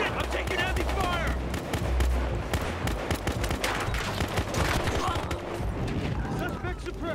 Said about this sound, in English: I'm taking heavy fire!